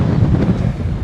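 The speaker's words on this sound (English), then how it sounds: "Oh, it's very windy." Strong coastal wind in Essaouira, Morocco, buffets the microphone with a loud, low roaring rush throughout, no voices present.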